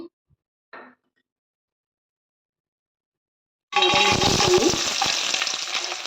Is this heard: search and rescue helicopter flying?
no